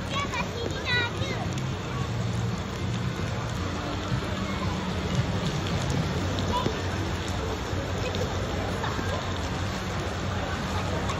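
Steady rain patters on a roof overhead at Sunway Lagoon water park in a continuous hiss, with children's voices faintly in the background.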